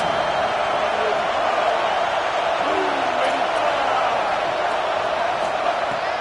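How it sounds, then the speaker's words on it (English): Stadium crowd in an NCAA football video game, a dense, constant roar of cheering fans filling the space, loud and unbroken, with a commentator's voice faintly over it. "Listen to this crowd just shaking the girders of this place, trying to help their defense."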